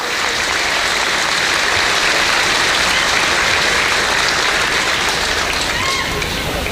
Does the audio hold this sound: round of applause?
yes